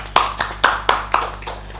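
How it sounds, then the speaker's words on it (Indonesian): Clapping during an Indonesian student podcast recording: about six distinct sharp claps in a slow, slightly uneven rhythm, close and fairly loud over a faint steady hum, the last claps softer. "Tepuk tangan."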